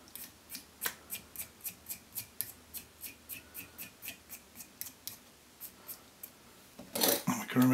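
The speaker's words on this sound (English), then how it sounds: "Scissors edge, just remove the soot." Quick, rhythmic scrapes of a scissors edge rubbing soot off a salmon/steelhead fly being tied, about a dozen close, faint strokes, then a brief louder rustle.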